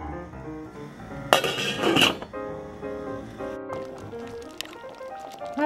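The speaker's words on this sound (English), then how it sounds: "now we're gonna want to cover this and let all the vegetables cook" A metal lid goes onto a pot of simmering Japanese beef curry with vegetables: a bright clanking burst of metal on metal, followed by softer clinks and quiet kitchen noise.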